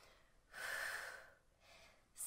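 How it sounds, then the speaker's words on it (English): Close, audible breaths during an ab exercise: a long breathy exhale, a softer second breath, then the start of another, forming a slow, steady rhythm with no talk. "Breathe steadily."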